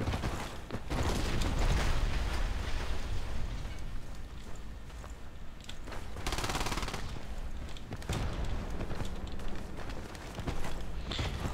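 XM-25 smart grenade rounds bursting at close proximity in a video game, dense rapid bangs and crackling blasts in sustained loud volleys with brief pauses between bursts.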